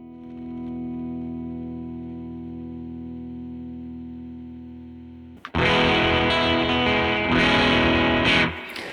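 A clean, sustained guitar chord rings and slowly fades, then a much louder guitar through a Benson Stonk Box '60s-style fuzz pedal crashes in, heavily fuzzed and distorted, buzzing harshly.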